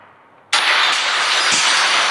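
A van engine in the horror video game Evil Nun suddenly starts up after a faint hum, then runs at a steady, loud roar for a couple of seconds.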